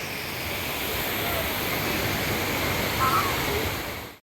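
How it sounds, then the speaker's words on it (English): Water in a resort lazy river pool gives off a steady, broad rushing wash at moderate level, with no talk heard. "This is your lazy river."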